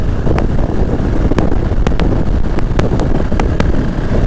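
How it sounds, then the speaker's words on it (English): Steady, loud wind roar buffets the microphone while riding a KTM 690 motorcycle, a continuous rushing noise with a few sharp ticks and clicks scattered through it. "Been really breezy today."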